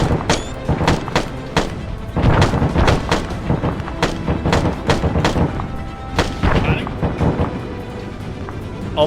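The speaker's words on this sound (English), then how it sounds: "A mortar landed and took out all of our remaining guys." A mortar shell lands and explodes amid a military shooter battle, with repeated sharp booms and gunfire cracks in an irregular barrage, near and loud, while voices talk over the fighting.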